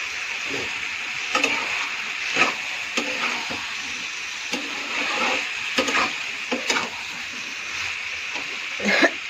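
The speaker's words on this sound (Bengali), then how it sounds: "আসলে একটুখানি ভালো করে কষাবো।" Food is stirred and sautéed in a pan, with a continuous sizzle under repeated scraping and stirring strokes at an irregular pace, heard up close with no talk.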